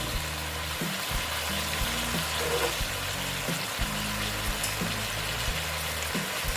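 Green chillies frying in a pan of mixed vegetables, a continuous close sizzle with bubbling and occasional stirring scrapes running steadily from start to finish.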